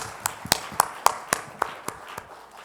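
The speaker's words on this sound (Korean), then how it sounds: "우리 다시 한번 학생들과 청년들에게 큰 박수 한번 부를까요?" Roughly ten sharp, evenly spaced claps ring out in a church worship service for students and young adults, a single clear clapping rhythm that slows and fades slightly, close and distinct rather than a crowd roar.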